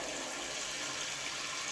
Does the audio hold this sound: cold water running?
yes